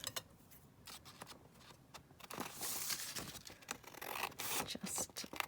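Paper for a junk journal booklet pullout is trimmed down close by, producing a steady, raspy cutting scrape with brief ticks layered over it and no voices.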